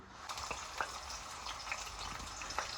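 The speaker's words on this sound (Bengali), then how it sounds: "চুলায় তেলটা গরম করে নিলাম প্রথমেই এবং সেখান থেকে আমি প্রথমে পেঁয়াজ দিয়ে নিচ্ছি" Onions sizzle steadily in hot oil in a pan on a stove, a dense continuous crackle with scattered sharper pops, fairly quiet and close with no talking.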